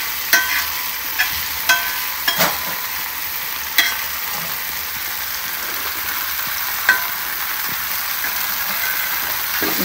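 Paneer fries in a hot pan with a continuous bright sizzle, punctuated by several sharp clicks and scrapes as pieces are flipped and stirred, close and fairly loud, with no talking.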